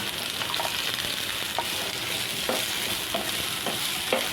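Continuous sizzle of sweet corn frying slowly over low heat in white vegetable oil, with occasional soft pops and light stirring taps, close and steady.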